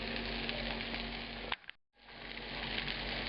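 Meatballs sizzle loudly in a frying pan, a continuous hiss that cuts out briefly midway as they are turned and then resumes at full strength.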